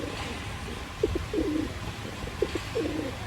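Pigeons coo softly in two short bursts of low, throaty calls over a quiet outdoor background near rice fields.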